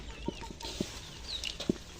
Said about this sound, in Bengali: মুরগিগুলো কত সুন্দরভাবে খাচ্ছে